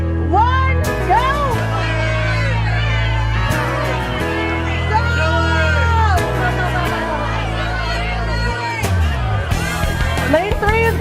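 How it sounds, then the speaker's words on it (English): A loud, steady crowd yells and cheers through a race at an annual chowder festival, with overlapping shouts and excited voices building toward the end. "The louder the crowd yells, the better it is."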